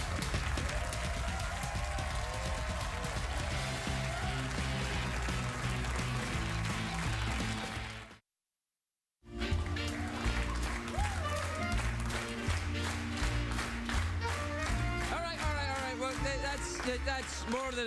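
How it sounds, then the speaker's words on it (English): A late-night talk show studio audience claps along in rhythm with upbeat band music, loud and sustained, broken by a second of silence before the clapping and music resume. "That's the most enthusiastic clapping along I've ever heard in my life."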